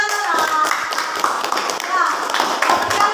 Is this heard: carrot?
no